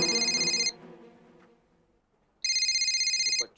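A telephone rings in two bursts of electronic trilling separated by a pause of about two seconds, clear and fairly close in a quiet room.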